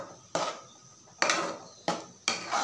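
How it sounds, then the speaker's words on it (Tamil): Clattering scrapes of a spoon stirring gravy into one-pot rice in a pan, four sharp metallic strikes that each fade into a softer scraping tail, close and moderately loud, with no voices. "நல்லா அப்படி கலந்து விட்டுக்கோங்க."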